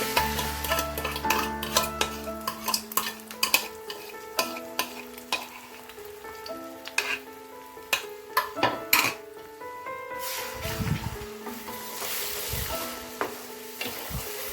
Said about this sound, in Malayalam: നേരത്തെ അടിച്ചു വെച്ചേക്കണ മുട്ട ഇത് ഇട്ട് കൊടുക്കുക.